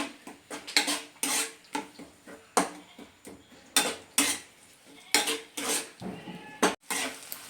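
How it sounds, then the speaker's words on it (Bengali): Spice paste being sautéed hard in a pan for a Bengali raw green banana curry, heard as repeated loud scraping and clattering strokes of a spatula against metal, arriving in quick irregular bursts with no voices. "এটা ভালোভাবে আমি কষিয়ে নিচ্ছি।"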